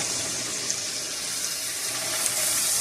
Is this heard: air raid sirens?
no